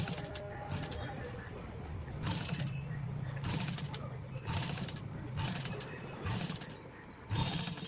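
A sewing machine stitches small gathers into blouse fabric in repeated short bursts of rapid mechanical whirring, separated by brief pauses. The sound is close and moderately loud.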